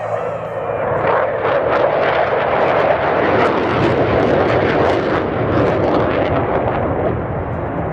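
A Dassault jet thunders past at the Melun-Villaroche airshow, a loud, steady, broadband engine roar that holds for the whole stretch without easing.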